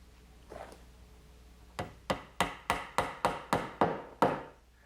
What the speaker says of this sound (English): Now I'll just pin it in place with a couple dowels.